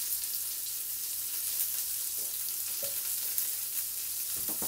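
Onions and mushrooms sizzle steadily in a pan for boeuf bourguignon, a close, continuous crackling fry with a few soft stirring knocks, no voices.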